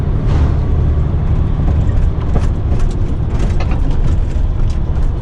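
A truck on a badly broken road on a long-haul run to Kuwait, with loud continuous engine drone and rumbling road noise, the cab rattling and jolting throughout.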